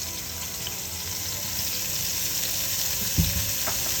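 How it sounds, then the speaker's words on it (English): Onions fry in a hot pan in leftover Italian sausage grease, a steady close sizzle with a brief louder clunk near the end. "we've taken the Italian sausage out of the pan, heated it up, add our onions."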